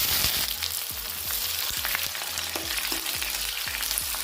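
Chopped onion and garlic fry in hot mustard oil over a medium flame, giving a constant close crackling sizzle with repeated soft stirring strokes at a regular rhythm.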